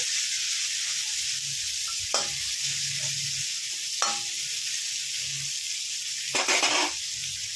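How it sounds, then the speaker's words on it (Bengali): Sliced bitter gourd fries in hot mustard oil, a steady bright sizzle running throughout with a few sharp utensil scrapes and clacks near the start, middle and end; no voices. "এগুলোকে আমি একটু লাল লাল করে ভেজে নেব।"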